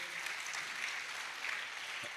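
A congregation claps steadily for the Lord during a church service, a brief, moderately distant wash of applause with no voices over it.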